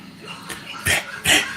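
Two short, sharp dog barks a moment apart over a faint steady background hum; no talking.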